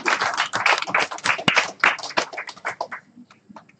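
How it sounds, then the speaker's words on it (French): Applause at a press conference, heard as a burst of scattered, fairly close hand claps that thins out and fades toward the end. "Et un tonnerre d'applaudissements retentit."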